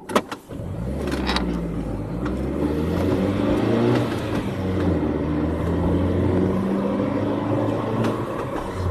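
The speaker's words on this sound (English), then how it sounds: "So now we are just driving." A car drives along a road trip, its engine audibly rising and falling in pitch as it accelerates over a steady road roar, loud and close from the cabin, with a few clicks near the start.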